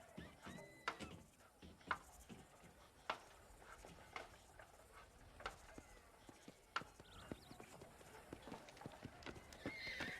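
Horses in the Red Dead Redemption video game whinny and snort while hooves clip-clop in scattered, uneven steps, fairly close and alone, with occasional thuds between.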